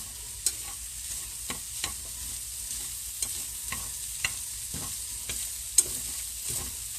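Bean sprouts and noodles stir-fry in a hot pan, a steady loud sizzle broken by regular scraping and clacking strokes from the stirring utensil, with no voices.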